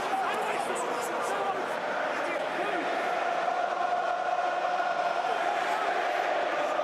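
Rugby stadium crowd at an England v New Zealand Autumn Nations Series match, a steady roaring wash of cheering and noise from a big crowd under a commentator's voice.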